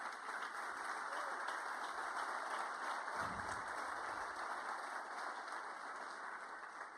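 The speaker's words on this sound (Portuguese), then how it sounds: "Você pode aplaudir ao Senhor por isso?" A large audience at a church conference applauds in a continuous, even wash of clapping heard from a distance, steady throughout with only a faint swell near the middle.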